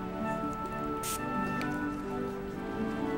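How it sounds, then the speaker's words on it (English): Water is sprayed from a spray bottle onto paper, giving a short bright hiss of mist over a faint background hum, quiet and close. "So just spritz this with water."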